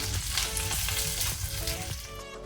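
Sliced onions and curry leaves fry in hot oil in a pan, producing a continuous loud crackling sizzle with brief stirring scrapes and no voices.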